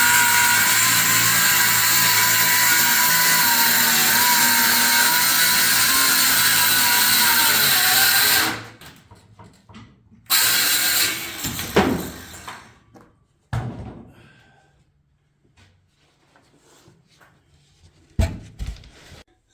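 A table saw cuts a piece off a large board, a loud steady whine running for about eight seconds before cutting off abruptly, followed by a few short knocks and bursts of handling noise.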